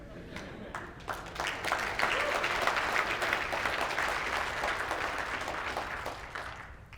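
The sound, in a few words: conference audience applause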